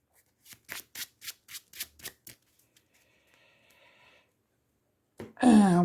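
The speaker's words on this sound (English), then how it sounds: "Even though it was on the bottom, we're still going to shuffle." Riffle-shuffling a deck of Marvel Champions game cards produces a quick run of about eight crisp, evenly spaced flutters, then a quiet pause with a faint hum and a louder bridge-like burst at the end, with no talk.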